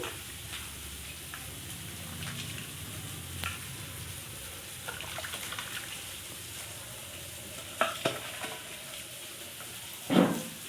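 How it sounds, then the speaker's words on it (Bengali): Cauliflower sizzles and fries in hot oil with a steady hiss, interrupted by occasional scraping stirs and a louder clatter near the end. "ফুলকপি এদিকে ভাজা হয়ে গেছে।"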